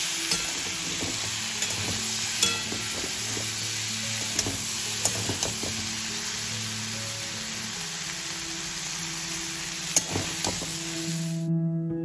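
Tomatoes and green chilies fry in a pan with a steady close sizzle, stirred by a utensil that scrapes and taps at irregular intervals, with no talking.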